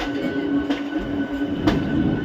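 A local train pulls out of Howrah station, a steady rumble with a droning hum and faint wheel clicks, heard from on board with no voices.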